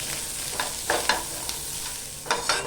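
Onion and garlic frying on a low flame while being stirred, with a soft steady sizzle and several light spoon scrapes against the pan.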